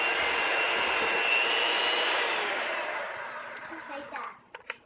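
An electric mixer creams sugar and butter for banana bread, running as a loud steady whine for about three seconds, then winding down and stopping, followed by a few faint clicks.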